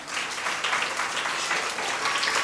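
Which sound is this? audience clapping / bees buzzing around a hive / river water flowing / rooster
audience clapping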